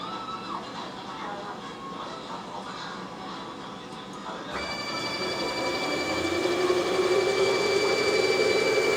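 A homemade CNC machine with a clutch tap holder runs a tapping cycle. A low mechanical hum shifts partway through into a louder motor and spindle whine that builds toward the end.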